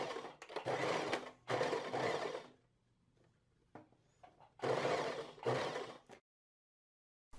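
Sewing machine stitching along the folded edge of a pocket facing in short bursts, a close whirring chatter of several runs separated by brief pauses and quiet handling.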